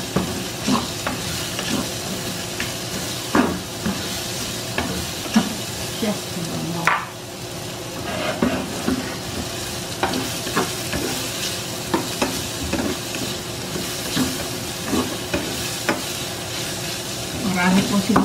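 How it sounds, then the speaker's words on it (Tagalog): Onions frying and being stirred in a pan for beef mechado, a steady sizzle with repeated scraping spoon strokes throughout, close and moderately loud. "lulutuin lang natin yung sibuyas para ilagay natin yung tomato."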